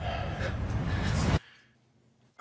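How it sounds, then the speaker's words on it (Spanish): A person breathing in a dramatic trailer, one loud, close, rough gasping breath followed by near silence and a short final sound. "Oigo tu respiración."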